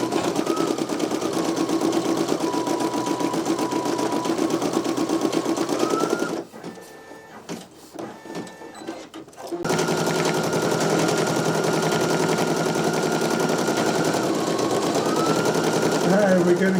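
Two Brother embroidery machines, a PE900 and an NQ1700E, stitch out a design with a steady, rapid mechanical chatter that drops away for about three seconds mid-clip, then resumes at full strength.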